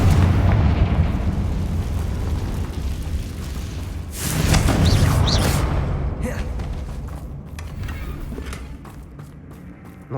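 Confringo fire-spell explosion in Hogwarts Legacy: a loud booming blast bursts out midway over a rumbling game background, then rolls off into a crackling, decaying tail.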